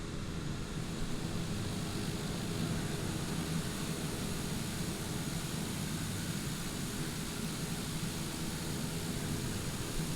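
A Daher TBM 930 turboprop idles on the ground, a steady, broad rushing roar with a low throbbing undertone that holds evenly and loud throughout, with no voices.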